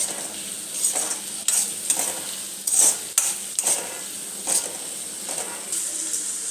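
A green peas and rice mixture being stirred in a hot pan, a soft steady sizzle under repeated scraping and clinking strokes of a spoon against the metal, close and fairly loud, no talking.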